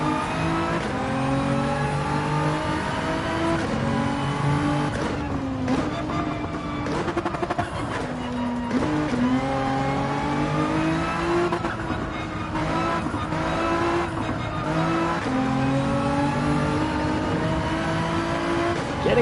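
A Nissan GT-R race car engine in Gran Turismo 7 on the Grand Valley track drones loud and continuous, with pitch rising and falling through acceleration, braking and cornering and occasional brief tire squeal.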